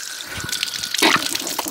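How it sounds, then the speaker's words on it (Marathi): Water runs from a kitchen tap, a close splashing stream that swells suddenly louder midway, with a faint tone early on and no voices. "पाणी बंद कर बस."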